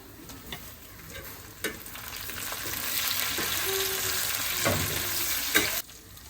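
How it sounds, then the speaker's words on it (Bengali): Ginger garlic paste and whole spices including bay leaf fry in a pan for a spicy chicken bhuna, a close sizzle that swells in the middle, punctuated by several sharp spoon clacks and stirring scrapes. "আদা রসুন বাটাটা একটু ভেজে নিয়েছি"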